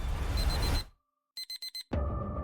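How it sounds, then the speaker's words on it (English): An alarm goes off as a quick run of four sharp electronic beeps, set between surges of loud, rumbling noise before and after. "someone's alarm just went off."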